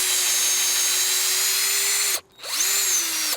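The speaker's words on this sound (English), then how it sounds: "you could hear the drill straining as it's going through, because it is cutting and removing all that garbage" Power drill driving a tapered tap through trailer wheel lug threads, a loud steady whine that cuts out briefly, then restarts and strains as it bites, under no speech.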